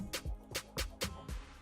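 Another snare sample from an amapiano-style beat: five bright, snappy hits in a steady rhythm, each a crisp burst with a short tail, close and dry with no voices.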